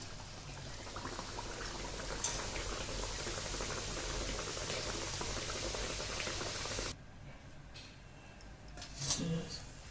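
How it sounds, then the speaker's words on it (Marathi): Sweet rava and jaggery sanjori deep-frying in hot oil, a dense continuous bubbling hiss that suddenly drops to a quieter level near the end. "अशा प्रकारे ना सर्व सांजोरा तळून घेते मी"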